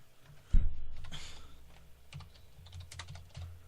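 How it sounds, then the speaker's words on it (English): Brisk typing on a computer keyboard, a close, rapid run of clicking keystrokes following a single louder thump at the start, with no one talking. "you can hear me typing"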